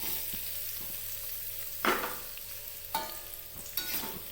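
Spice paste sautés in hot oil for pindang patin fish, a steady low sizzle broken by three loud bursts of crackling as the paste is stirred or added.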